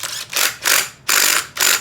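A hand ratchet tightens a 27 millimeter bolt on a 1997 KX 125 dirt bike: four loud, close bursts of rapid clicking, each about a quarter second long and separated by short pauses.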